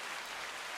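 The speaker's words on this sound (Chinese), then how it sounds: "欢呼" A short burst of crowd cheering played as a sound effect from a Zoom H8 recorder, a dense, bright wash of noise lasting under a second.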